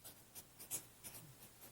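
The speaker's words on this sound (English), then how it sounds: "I write 5 of hearts." A thick marker writes on a pad of paper, a few soft, short scratchy strokes in quick succession, very quiet and close.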